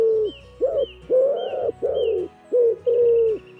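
A wood pigeon's soft, hollow cooing in a rhythmic series of about six rounded phrases, close and clear, with faint higher bird chirps in the background.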